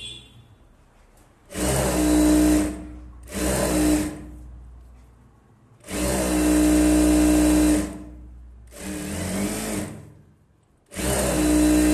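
A sewing machine stitches folded piping onto a blouse in five loud, close bursts of steady motor whir, separated by short pauses, with no talking.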